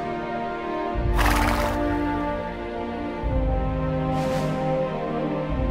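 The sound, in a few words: horse neighing, a brave faithful horse named Henry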